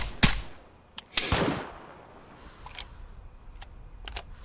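Gunfire in the video game Vigor: two sharp, loud shots near the start followed by a few fainter distant pops over a low background rumble, with no talking.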